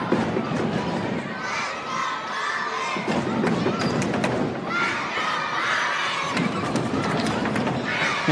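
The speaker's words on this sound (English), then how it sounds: "All the junior Comets are doing the Let's Go Comets chant and banging on the stands that they're sitting in." Junior fans in the bleachers at a high school basketball game chanting in unison and banging on the stands, a loud, rhythmic roar with repeated thuds filling the gym.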